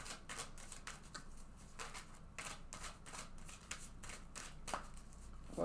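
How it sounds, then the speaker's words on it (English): A deck of tarot cards is shuffled repeatedly, soft rhythmic riffling bursts recurring at regular intervals, quiet and close, with no voices. "let's go ahead and shuffle this deck several times"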